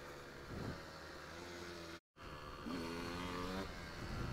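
KTM 125 EXC two-stroke enduro motorcycle engine on a dirt trail at dusk, a steady buzzing drone that climbs in pitch as it revs, broken by a brief cut, then rising again loud and close.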